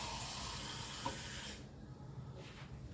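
Water pours into a pot of thickening ragi porridge in a home kitchen. It makes a steady, soft rushing hiss that stops partway through, leaving quiet background noise.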